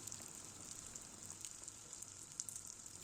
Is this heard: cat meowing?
no